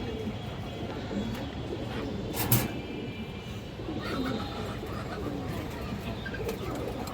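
Pigeons coo at a pigeon sale where a big female Muslodom pigeon is on show, the low murmuring steady for the whole stretch beneath a dense, noisy background with one brief sharp sound midway.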